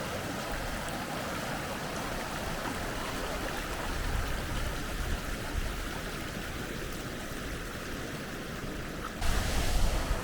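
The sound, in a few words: waterfalls in a valley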